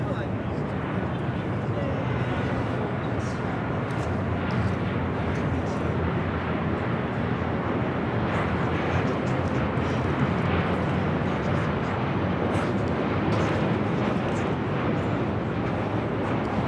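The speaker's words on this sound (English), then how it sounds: "This arrival is Delta Airlines Flight 2122 coming in from Minneapolis on the 737-900ER." A Delta Airlines Boeing 737-900ER jet arrives at LAX from Minneapolis on New Year's Eve. Its engines make a sustained, broad rumbling roar across the whole stretch, with a voice talking over it.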